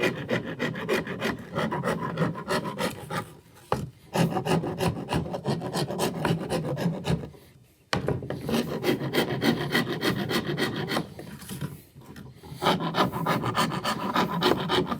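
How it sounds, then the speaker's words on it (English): A large old hand rasp files the notched edge of a wooden deck board in quick, rhythmic scraping strokes, close and steady, with brief pauses between three long runs. "So I'm gonna go grab a quick rasp. I'm just gonna give it a detail."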